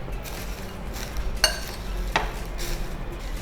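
A spoon stirs a corn mixture snack in a pan, soft scraping and rustling with two brief metallic clinks, fairly quiet and close.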